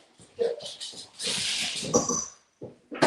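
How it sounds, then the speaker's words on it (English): A pet dog whimpers and yips in bursts indoors, high-pitched excited cries with short sharp yelps and a stretch of agitated whining, close and fairly loud. "The dog just went mad."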